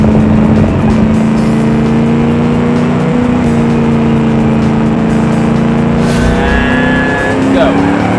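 Car engine in the video game Automation, a loud steady drone with pitch shifts as the car takes handbrake turns, a brief tyre-like squeal late on, with someone talking over it.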